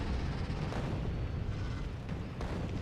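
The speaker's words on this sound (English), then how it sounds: "I like the cluster grenades." Cluster grenades detonate in a Factorio: Space Age game, a dense, continuous rumble of overlapping heavy booms that rolls loudly for a few seconds without pause, with no speech over it.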